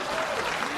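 Brief, dense wash of crowd applause, less than a second long, soft and steady with no distinct individual claps.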